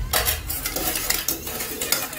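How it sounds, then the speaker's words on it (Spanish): A fork scrapes and clinks against a dish while stirring silver jewelry in a bubbling cleaning solution, with quick metallic taps over a fizzing, boiling hiss, close and fairly loud. "Revolvemos con un tenedor."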